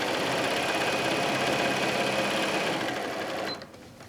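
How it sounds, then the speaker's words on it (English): A sewing machine stitches a pillowcase seam in one fast, continuous run, its rapid mechanical whirr and needle clatter steady and close, then slowing and stopping at the end. "we're just going to go and we're going to stitch straight down."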